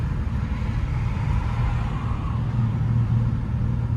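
A rough-running engine in a $225 auction car that is low on gas and losing power, heard as a dense, steady low rumble with a slightly uneven, labored texture from inside the moving car, with no speech.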